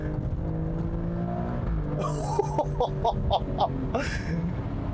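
A 2019 Alfa Romeo Stelvio Quadrifoglio or Porsche Macan SUV engine revs while driving, a low hum followed by a sharp rise with rapid gear-shift bursts, loud and close.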